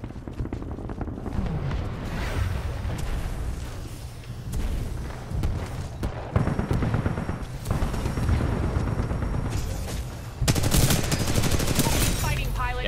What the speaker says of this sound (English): Literally a cheap grenade launcher.